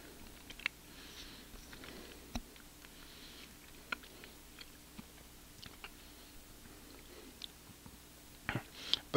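Chewing on gummy banana-flavored Harry Potter candy, with quiet wet smacks and small clicks scattered through a soft, low background, close to the mic and faint, with no talking.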